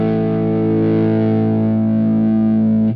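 Electric guitar through a single-coil front pickup, run into a 1959 SLP amp tone on a GP-5, rings out as one loud distorted chord with chorus-like shimmer, sustaining evenly before cutting off abruptly at the end, no talking.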